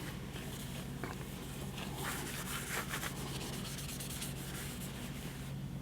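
A cloth wipes down a new Harley-Davidson M8 Bagger exhaust pipe with cleaner, producing a steady, soft rubbing hiss close by with faint intermittent squeaks and no speech.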